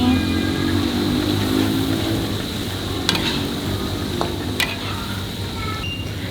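Blended chili spice paste with garlic and shallots sautés in a pan, giving a steady, close sizzle and frying hiss with a few brief clinks of stirring.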